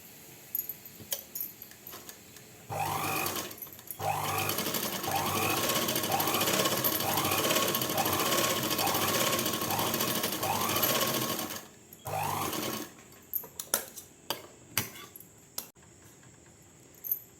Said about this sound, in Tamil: ரெண்டு தையல் போட்டுக்கணும்